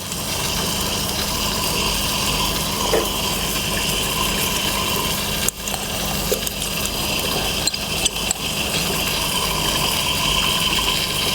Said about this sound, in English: I will leave it for more few seconds to let all the water go into the Erlenmeyer.